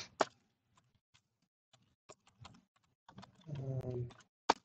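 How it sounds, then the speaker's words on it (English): Computer keyboard typing as a valve description is entered into piping software, with sparse separate keystrokes and a short faster burst near the end, quiet and close with no talking. "You just type in the description."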